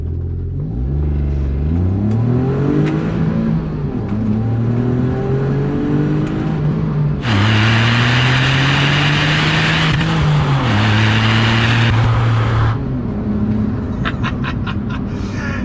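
Brabus 451 Smart car engine accelerating hard through the gears, loud close revving that climbs, drops at shifts and climbs again, with a burst of harsher high-pitched noise midway.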